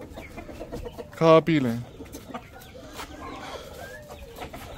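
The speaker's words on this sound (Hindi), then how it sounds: "वो देख दो मुर्गे इधर जो है ना जाली के आर पार लड़ने की कोशिश कर रहे हैं" A loud rooster squawk bursts out for about half a second as two roosters try to fight through a wire mesh, amid clucking fowl, with a person speaking briefly nearby.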